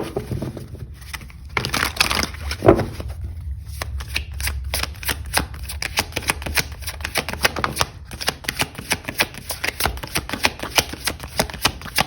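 Tarot cards are shuffled repeatedly in a rapid, riffling patter, close and fairly loud, with brief pauses between bursts.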